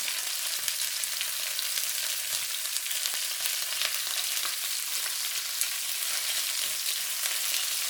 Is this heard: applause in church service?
no